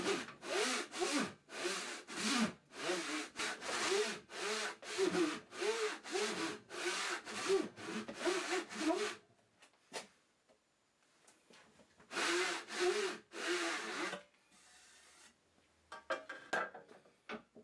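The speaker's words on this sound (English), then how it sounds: "cut down until I meet the depth of the internal mark" Hand saw cutting down into a wooden board held in a vise, a steady run of close, loud rasping strokes, a pause, then another short burst of strokes.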